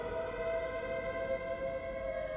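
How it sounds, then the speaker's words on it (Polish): Air raid sirens in the Prisoner of War video game, a steady multi-toned wail holding a constant pitch with layered harmonics, sounding continuously and alone without any talk. "słyszymy syreny"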